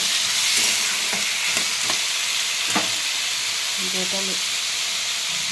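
Potatoes fry with salt, turmeric and tomato in a pan, a steady bright sizzle and hiss running throughout with a few soft stirring clicks and scrapes.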